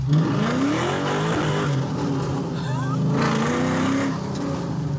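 A Chevrolet Camaro SS hot rod, driven hard with stability control off, accelerates with a loud, close engine roar that climbs in pitch through the gears, rising and dipping with each shift.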